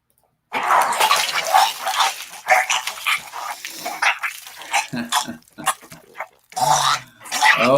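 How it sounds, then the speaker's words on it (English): A vomiting sound effect: loud retching, gagging and splattering bursts in an irregular series, wet and close, with short pauses between heaves. "This guy just vomited"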